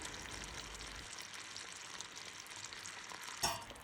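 Sugar syrup with lemon peel and cinnamon simmers on a stovetop, giving a faint, steady bubbling hiss with one sharper clink or splash near the end.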